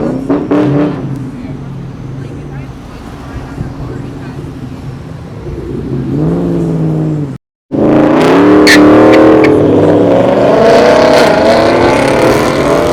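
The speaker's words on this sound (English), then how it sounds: "You gotta love the exhaust sound of an old Viper" An old Dodge Viper with side exhaust rumbling loud and close at a summer car cruise event, a deep steady burble with a brief cutout, then rising revs over crowd noise and talk.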